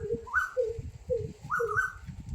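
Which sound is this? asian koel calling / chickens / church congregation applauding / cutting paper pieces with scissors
asian koel calling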